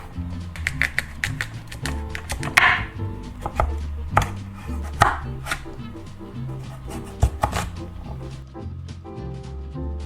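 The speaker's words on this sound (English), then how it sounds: "Just peel it and give it a good chop." A knife chops peeled rutabaga on a board in rapid, uneven bursts of sharp close taps, loud and dry, with no voices over it.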